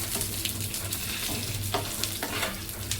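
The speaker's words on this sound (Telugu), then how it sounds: "పోపు వేగుతుందా పోపు వేగుతుందండి" Tempering spices with curry leaves sizzle and crackle steadily in hot oil in a pan, a close continuous frying hiss with small pops and a stirring scrape, no talking.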